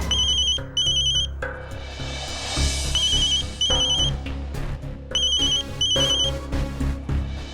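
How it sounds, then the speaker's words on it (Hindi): A telephone ringtone plays in repeated bursts of bright electronic chirps, loud and close, over background music, with no talk heard during the ringing. "क्यों डॉक्टर अमन, आपने मेरा फोन उठा लिया?"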